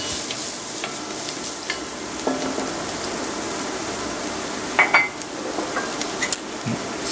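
Onion, ginger and garlic sauté in a pan for chicken with pineapple, a close, steady sizzle under repeated scraping and clinking from a stirring utensil against the pan.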